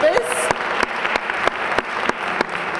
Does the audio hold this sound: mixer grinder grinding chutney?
no